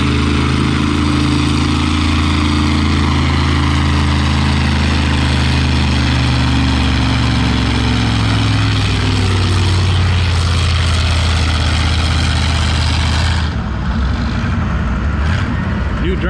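V8 International W9 tractor pulling a 7,000-pound load at 8 mph at a vintage farming days tractor pull, a loud, sustained roaring engine with deep harmonic drone that holds steady then drops off sharply near the end.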